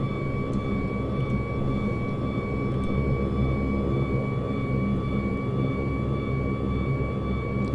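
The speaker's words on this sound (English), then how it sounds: "There goes our old friend, the hydraulic pump." Hydraulic pump whining in a simulated Saab 340 turboprop sitting at ground idle on a runway, a steady tonal whine held over a continuous low engine drone, constant level, no speech.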